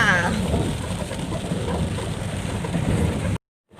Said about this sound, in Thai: ตอนนี้ฝนก็ตก